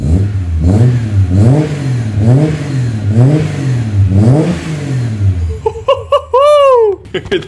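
A Ford AU Falcon fitted with Pacemaker 4480 extractors revs loudly and close, with about five rhythmic rising blips in a row, then a stretch of laughter and excited voices over the idling engine.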